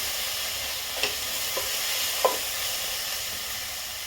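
Vegetables with Kashmiri red chilli frying in a pan, a steady close sizzle with a few sharp spoon clicks and scrapes against the pan as it is stirred.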